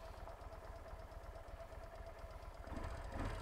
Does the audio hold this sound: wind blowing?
no